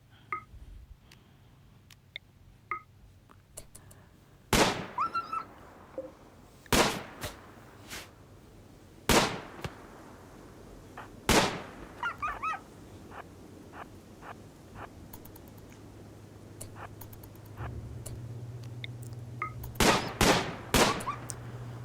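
Gunfire at a fast skip hound in the modded colony game Rimworld, a series of sharp isolated shots spaced a couple of seconds apart, then a quick cluster near the end, over faint game ambience.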